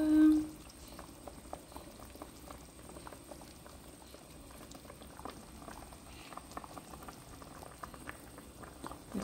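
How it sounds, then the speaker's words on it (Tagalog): A pot of soup with moringa (malungay), fish and tofu bubbles at a gentle boil, a soft, continuous patter of small bursting bubbles, fairly quiet and close, with no talking. "Pakuluan lang natin siya dyan."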